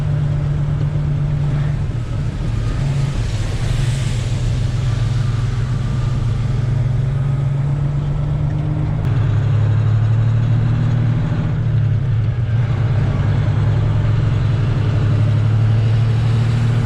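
A green farm truck's engine runs steadily at a low, droning idle with a slight rise in revs partway through, close and continuous, with no voices over it.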